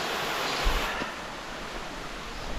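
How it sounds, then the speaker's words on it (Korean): Cool mountain stream water flows in the valley at Jingwansa, Bukhansan, a steady, soft broadband rush with no distinct splashes and no voices. "이제 진관사의 계곡물이 시원하게 이제 여기서부터 시작이 되는 거죠"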